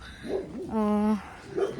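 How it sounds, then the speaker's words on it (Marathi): A village dog lets out a single drawn-out, whining bark in the middle, fairly close and moderately loud, with people talking just before and after. "कुत्रा आहे हा भोकतच असतो नुसता"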